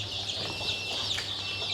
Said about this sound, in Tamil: இந்த பக்கம் எல்லாமே வந்து சிக்ஸுங்கண்ணா.